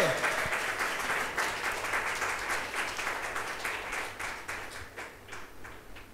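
Church congregation applauding during a pastor's Hindi sermon, a steady wash of many hands clapping at moderate volume that continues evenly throughout.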